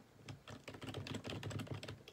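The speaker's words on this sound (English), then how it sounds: "I have the Corsair keyboard instead of using the Mac keyboard" Quick, steady keystrokes on a Corsair computer keyboard, a close stream of crisp clicks with a soft low thump under them, fairly quiet and with no talking.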